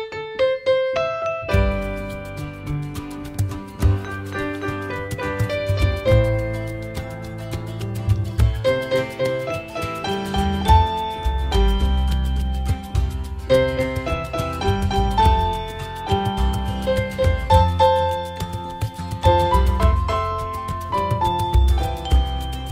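Solo piano plays an easy arrangement of a song at full tempo, with steady chords and a melody line sounding close and fairly loud throughout, and no voices.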